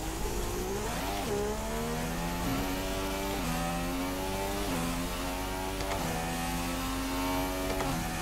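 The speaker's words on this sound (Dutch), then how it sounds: "De motor staat aan." An F1 car engine in the racing game F1 2016 runs steadily with a constant droning hum. Its pitch rises and drops in repeated sweeping revs, heard up close and alone.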